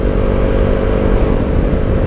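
A KTM Duke 390 motorcycle engine runs steadily on a gravel off-road track at Kentish Park, Sheffield, with a loud, continuous rumbling drone and slight rough clatter, and no talking.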